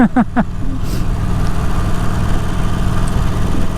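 A Harley-Davidson Forty-Eight motorcycle engine runs at a close, loud, steady low throb, briefly overlapped by a few short vocal sounds at the start.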